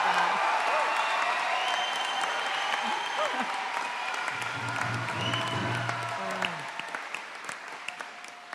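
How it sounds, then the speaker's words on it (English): A gym packed with a college commencement audience breaks into sustained applause and cheering, dense clapping with scattered whoops, loud and close, tapering slightly toward the end, with a voice heard over it. "So feel free to cheer right now for the graduates that we have."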